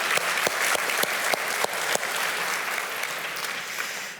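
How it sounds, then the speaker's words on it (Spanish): Audience applause from a church congregation, a full burst of clapping with sharp individual claps at first that thins and fades out over a few seconds. "Un fuerte aplauso para ustedes"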